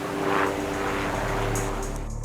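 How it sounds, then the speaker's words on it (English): A helicopter flying overhead on the West Coast of New Zealand, shuttling building supplies uphill, gives a steady, loud, broadband rotor and engine roar throughout with no talk. "And a freaking helicopter! Oh my god! They've been buzzing overhead most of the morning"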